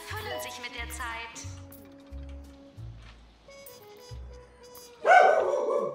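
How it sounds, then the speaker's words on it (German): A dog barks in the video game Two Point Hospital, a series of about seven evenly spaced barks mixed with game music, ending in a sudden loud burst of noise. "Mein Gott, Hund."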